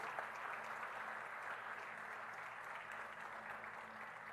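A church congregation applauds in a continuous, even wash of clapping that stays at a moderate distance throughout.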